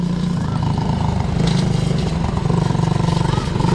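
Quad bike being ridden off road, its engine droning steadily and close with a rough pulsing rumble, while people talk over it.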